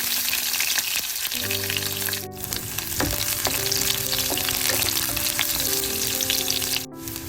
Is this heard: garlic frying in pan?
yes